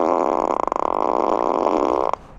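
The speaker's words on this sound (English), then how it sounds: "Or a random fart." A long, loud, buzzing fart sound effect from a Tesla car rattles for about two seconds, then cuts off abruptly into quiet.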